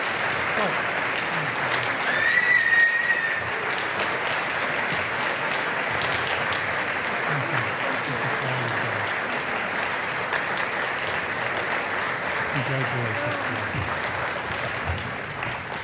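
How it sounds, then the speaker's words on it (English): Audience at the Visit Tri-Cities 2017 annual meeting gives sustained applause, a dense, even wash of clapping that carries on steadily from start to finish. "Please join me in a second round of applause for Kris."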